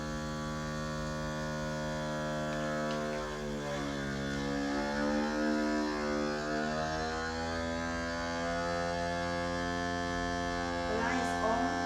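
A YUMYTH vacuum sealer running in food mode hums steadily and fairly loudly through the whole stretch, its motor drone shifting in pitch partway through before a short chime sounds near the end.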